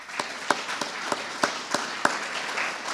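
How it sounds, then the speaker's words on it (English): Sparse, evenly spaced claps ring out at a community energy collaborative meeting, a brief round of applause from a small audience, with a soft room murmur between the sharp hand strikes. "Quick round of applause for SERDA."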